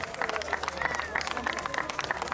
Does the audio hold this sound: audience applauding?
yes